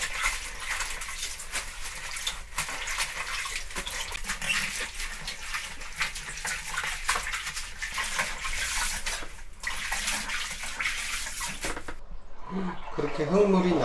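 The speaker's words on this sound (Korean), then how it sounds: "맑은 물이 나올 때까지 씻지" Cabbage and young radish greens are rinsed in water for kimchi, with steady splashing and running water that sloshes throughout, then quieter handling near the end while a voice speaks intermittently.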